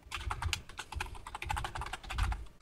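Typing on a computer keyboard heard close up: quick, uneven clicks with a few heavier thumps, continuous for nearly three seconds, quiet and with no talk.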